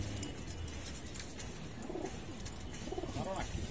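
Muslidom pigeons in a loft coo softly, a few low murmuring coos rising near the end over steady background noise, faint and close.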